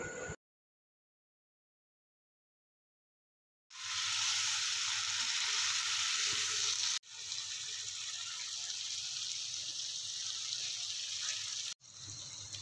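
Kofta balls sizzling loudly in hot masala, added one by one; a steady, close frying hiss broken by brief pauses, after a short silent start.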